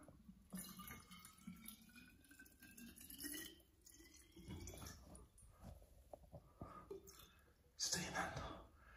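Water trickles and gurgles into a container close by, filling from a natural source inside a mine cave, while someone speaks quietly over the faint running sound.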